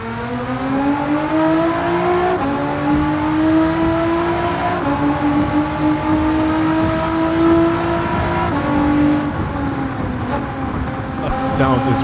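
A tuned 933 bhp Nissan GT-R with anti-lag, built like a race car, in Gran Turismo 7 holds a loud, continuous engine drone that climbs in pitch through the gears, with brief drops at shifts and no talk.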